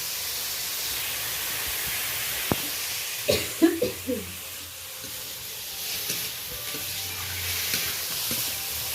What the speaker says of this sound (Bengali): এটা বেশ ভালো করে নাড়াচাড়া করে নেবো, যত সময় না কাঁচা ভাবটা চলে যাচ্ছে বা নরম হচ্ছে তত সময় ভালো করে নাড়াচাড়া করে নেবো।